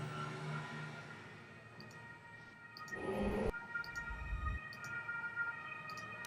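Faint, steady siren tones in the video game Star Wars: Knights of the Old Republic drift beneath a busy mix of low rumbling and scattered clicks, fairly quiet and distant-sounding.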